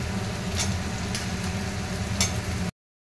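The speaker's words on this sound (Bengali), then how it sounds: "আলুটা একটু হালকা করে ভেজে নিতে হবে।" Potatoes frying lightly in a pan for a vegetarian coconut curry, a steady low sizzle with a constant hum beneath and a few faint clicks, close up, ending abruptly in silence.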